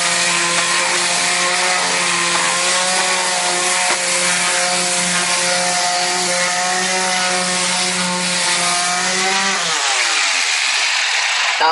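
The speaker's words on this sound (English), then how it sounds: "Okay, I'm going to start sanding." A power sander runs continuously on a drywall repair patch, a loud steady motor whine with a grinding rub that holds for about ten seconds, then the pitch shifts and fades as the tool winds down.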